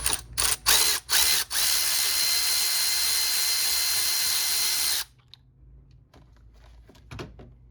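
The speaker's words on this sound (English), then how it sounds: "Disconnect your connector, E10 socket." A ratchet with an E10 socket works on the secondary air pump of a 2003-06 Mercedes E320 (W211): several short whirring bursts, then a steady close buzz of about three seconds that stops abruptly, followed by faint clicks and handling noises.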